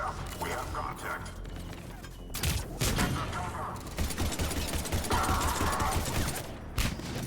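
Pistol fire in Mass Effect 3 comes as a string of sharp, loud cracks spread through several seconds of combat noise, with mechanical clatter between shots and a voice speaking over parts of it.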